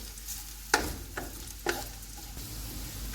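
Onions fry in hot oil in a pan for pulao, a steady close sizzle with a few sharp stirring clatters.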